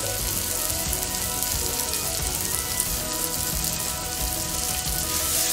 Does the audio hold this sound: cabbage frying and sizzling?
yes